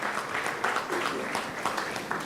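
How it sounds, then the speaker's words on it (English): Applause from an audience at a business award ceremony, steady, fairly faint clapping filling a brief moment without pause. "Let's give the gentleman one more round of applause"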